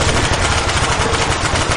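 Rapid automatic gunfire in Black Ops Zombies on the Ascension map, a dense unbroken stream of loud shots rattling on without pause, close and dominant with no voices over it.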